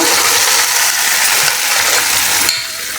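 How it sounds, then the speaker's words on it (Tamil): Mashed kovai keerai greens go into a hot pan of tempered dal mixture with a loud, steady sizzle and wet stirring that cuts off near the end. "இப்போது நம்ம கடைஞ்சி வச்சுருக்க இந்த கோவைக்கீரையை சேர்த்திடலாங்க."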